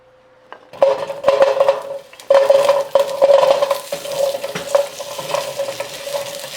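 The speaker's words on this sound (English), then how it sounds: "saute all the vegetables" Vegetables saute in oil in a pan, bursts of loud sizzling rising each time they are stirred and tossed, with scraping utensil strokes against the pan at close range and no talking.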